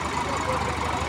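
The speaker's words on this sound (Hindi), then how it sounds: "सोनाली का की आवाज़ खतरनाक है, आवाज़ खतरनाक बिल्कुल ज़बरदस्त" A Sonalika tractor engine runs at a tractor tug-of-war event in Shamli, giving a brief, steady mid-pitched mechanical drone at moderate loudness.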